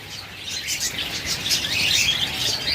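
A crowd of caged lovebirds, java sparrows and budgerigars chirps and tweets continuously, a dense overlapping chatter of many small birds close by and fairly loud.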